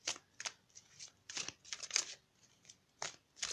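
A deck of ascended masters oracle cards is shuffled close up in quick bursts of papery riffling, separated by short pauses, quiet and alone.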